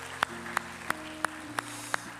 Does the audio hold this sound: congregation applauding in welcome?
yes